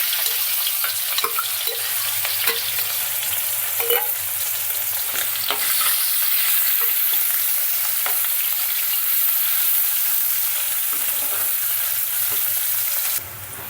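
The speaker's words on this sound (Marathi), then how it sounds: "आपला जो चिरलेला कांदा आहे तो आपण त्याच्यामध्ये टाकून घेऊ आता आपण कांदा मिक्स करू" Chopped onion fries loudly in hot oil in a pan where garlic was browning, a dense, constant sizzle broken by repeated scraping stirs, close and unbroken until it cuts off at the end.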